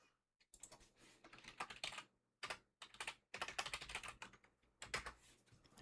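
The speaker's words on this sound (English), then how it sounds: "Typing intensifies." Fast typing on a computer keyboard during a live Minecraft session, bursts of crisp, close key clicks broken by short pauses, fairly quiet and with no speech.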